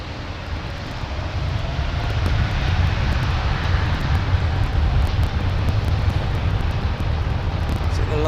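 An aircraft at London Heathrow Airport banking overhead: a loud, steady jet roar with rushing wind noise that builds and holds, a voice talking faintly beneath.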